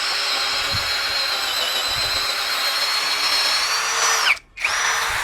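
An HL 812 V2 16V cordless impact drill runs at speed 1 with a loud, steady high-pitched motor whine, briefly stopping and restarting near the end.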